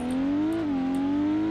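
Close, loud car exhaust revving in BeamNG.drive as a steady growling tone that rises slightly, then dips and settles into a sustained drone.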